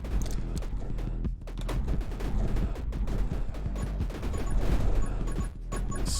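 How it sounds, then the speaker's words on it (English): Loud, dense bursts of crashing game-explosion noise from the action game 20 Minutes Till Dawn, continuous over a busy layer of combat effects and music with no break. "Excellent explosion there."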